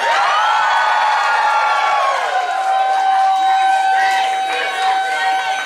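A concert crowd at New World Music Hall cheers and whoops loudly, a dense roar of shouting voices that holds at full strength throughout.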